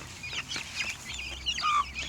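Chickens cluck steadily in short, busy bursts close by, with a low hum underneath and no talking.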